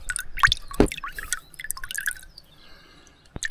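Water drips and trickles as it drains out of a vintage JCB excavator left by the beach for years, a few sharp close drops and splashes over a faint trickle, then quiet.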